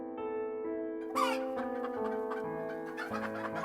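Cartoon chickens on a poultry farm cluck in a short burst over a steady background music bed, the calls moderately close and clearly heard above the soft tune.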